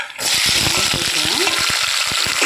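Sliced big and small onions and tomatoes sizzling in hot oil with mustard seeds in a home kitchen pan, a loud steady crackle with sharp popping bursts and a voice talking over it.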